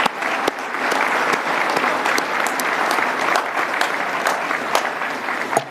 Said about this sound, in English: I want to clap, everybody's clapping hands for all of our coaches here today